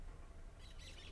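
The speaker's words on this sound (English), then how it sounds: "Those are all little parrots or parakeets." Small parrots or parakeets calling from a flock high overhead, faint, distant high chirps rising in the second half over a quiet outdoor background.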